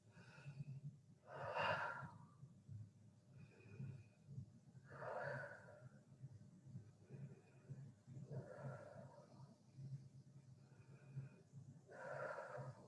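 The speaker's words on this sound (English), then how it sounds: "So we're gonna prepare our brains for learning by doing 5 belly breaths." Children in a classroom doing five slow, deep belly breaths, with audible inhales and exhales repeating in a steady rhythm over a low background hum, soft and fairly close.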